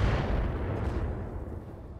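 Mech weapon fire in BattleTech, a continuous heavy rumbling blast with a dense low roar that holds steady and slowly fades over about two seconds.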